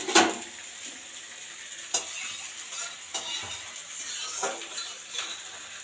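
Cut fish frying in oil in a home kitchen pan, a soft steady sizzle punctuated by occasional clinks and scrapes of a utensil stirring, fairly quiet with no talking.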